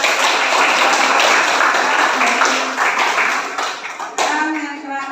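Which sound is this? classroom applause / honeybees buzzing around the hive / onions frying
classroom applause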